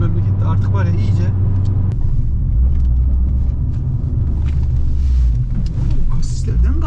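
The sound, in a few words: Fiat car driving over speed bumps without slowing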